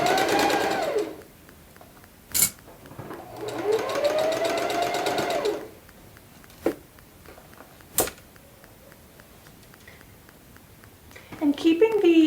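A sewing machine with its bed removed stitches around the underarm seam of a woven T-shirt in two bursts of steady whirring, separated by a few sharp clicks and quieter pauses.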